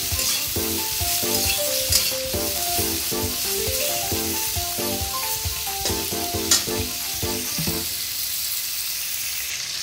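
Taro stolons (kochur loti) hitting a hot pan, a bright sizzling hiss running underneath a melodic music track with a few sharp clacks of utensils.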